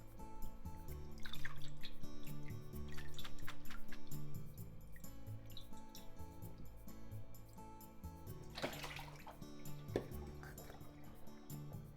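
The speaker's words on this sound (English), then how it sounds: "so let's drain." Water drains from onion soaked for ten minutes in a kitchen, a close trickle and splash of liquid into a sink with scattered drips and faint clinks, no talk.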